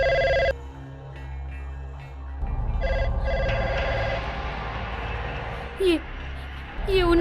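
In a Hindi-dubbed thriller film scene, a telephone rings loudly in a short burst at the start, then falls away into quieter room ambience with a few faint incidental noises.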